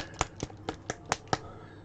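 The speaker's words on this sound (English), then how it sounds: "when you're shaking up Vallejos, if you hit it onto your hand" Six sharp, hollow taps in a steady rhythm, close and fairly loud, each a brief click with silence between, a Vallejo paint dropper bottle tapped against a hand.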